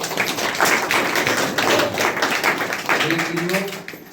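A congregation at a Christian worship gathering claps for the Lord in steady, sharp bursts that last throughout, with voices talking over the clapping.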